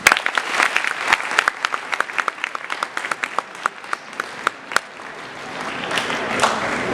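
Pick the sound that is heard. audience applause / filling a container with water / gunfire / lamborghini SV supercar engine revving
audience applause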